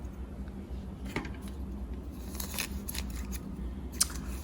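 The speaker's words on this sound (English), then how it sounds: "These scissors are so sharp," Sharp dog grooming scissors from a pet clipper kit, snipped a few times in a quiet room, giving several crisp metallic clicks and snips, close and fairly faint, spread irregularly across the moment.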